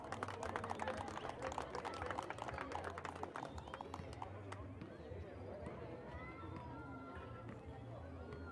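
A crowd claps loudly for the second-place team at a 2012 gathering in San Sebastián Nicananduta, with dense applause over the first half that fades into a quieter murmur while an announcer keeps talking.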